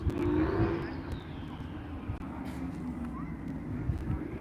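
Drift cars arrive at a practice track in Cyprus, engines rising and revving as they approach over a noisy outdoor background, with a voice talking over them.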